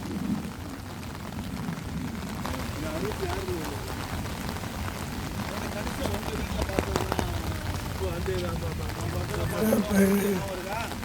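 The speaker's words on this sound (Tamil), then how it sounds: "இப்போது இந்த மழையில் நடந்துக்கிட்டு இருக்கோம்" Steady rain falls outdoors while people walk along a former railway corridor, a constant soft patter and hiss lasting throughout, with faint voices in the background.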